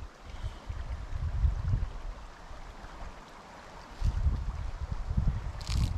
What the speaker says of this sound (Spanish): se ve que ese río tiene mucha corriente